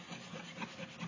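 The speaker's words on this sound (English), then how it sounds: "It's wax, so you should be able to scrape some of it off." A short, continuous scrape of wax being rubbed off a journal cover, rough and close with a slightly uneven rhythm, no speech.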